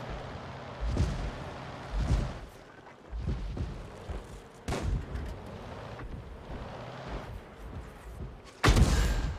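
Heavy tank cannon shots in World of Tanks, several loud booming blasts spaced a second or two apart with rumbling decay, the last one closest and loudest.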